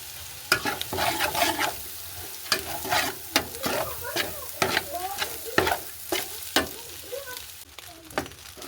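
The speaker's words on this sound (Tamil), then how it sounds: "இப்போ நாங்கள் சோறை இதோடு சேர்த்து கிண்ட போகிறோம்" Rice being stirred into a frying mixture in a pan, with repeated sharp scrapes and knocks of a spoon against the pan over a steady sizzle, close and fairly loud, no talking.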